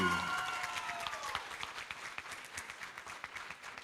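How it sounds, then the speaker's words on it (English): Audience applause for the University of Fiji debate team after a debate result is announced, a dense run of many hands clapping steadily, starting under a fading voice and then continuing alone. "A big round of applause, ladies and gentlemen, for the University of Fiji."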